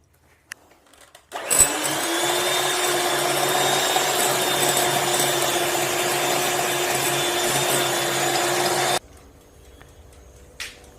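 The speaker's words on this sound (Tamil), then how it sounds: "½ கப் பட்டர் சேர்த்து ஃபர்ஸ்ட் blend பண்ணிக்கோங்க." Half a cup of unsalted butter whipped with an electric hand mixer for honey cake batter, a steady, loud motor whir running unbroken for about seven seconds before cutting off, with quiet handling noise on either side.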